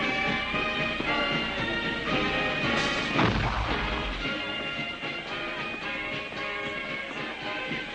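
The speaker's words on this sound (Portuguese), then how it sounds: "o ponto alto das festividades do dia era uma exibição de ativos fogos de artifício" A Fourth of July fireworks display in New England booms and crackles continuously, with a dense, loud barrage of bursts and one heavier deep blast partway through, no voices.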